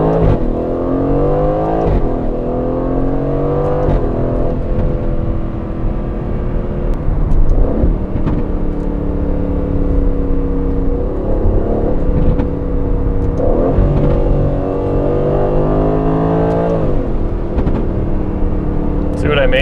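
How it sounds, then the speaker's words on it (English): An Aston Martin Vantage V8 engine rumbles steadily and loud from start to finish, with repeated rises in pitch as it revs, small exhaust pops, and a voice talking over it. "That V8 rumble with just enough little pops to not be annoying but still be fun"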